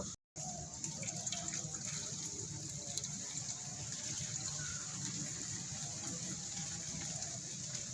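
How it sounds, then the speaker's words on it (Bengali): Water runs steadily from a tap while grated potatoes are rinsed for homemade chips, a constant close gushing hiss after a brief silent gap at the start. "খুব ভালো করে জল দিয়ে ধুয়ে নেব দু তিনবার ধুয়ে নেব"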